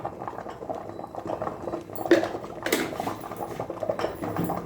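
Dal for tiffin sambar, cooked with asafoetida and a spoon of oil in a pressure cooker, bubbles softly. Gentle boiling and patter go on throughout, with a few louder bursts and faint clinks of utensils.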